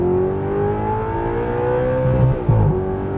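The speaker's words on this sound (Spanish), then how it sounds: "Ahora sí, aceleramos a fondo." An Audi R8 accelerates hard at full throttle, its engine note climbing loud and close through the gears with a brief shift dip near the end, no voices over it.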